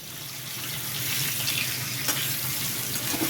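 Teasel gourd slices with a little salt and turmeric fry gently in hot oil, giving a steady, close, moderately loud sizzle and hiss throughout, with no talking.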